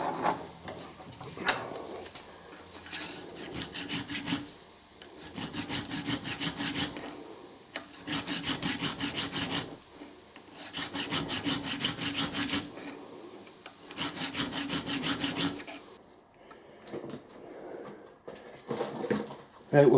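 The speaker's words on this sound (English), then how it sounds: "we'll file it until we're sick of filing it" A rusty metal part being filed by hand, heard as bursts of rapid rasping strokes separated by short pauses, close and fairly loud, with faint talk between bursts.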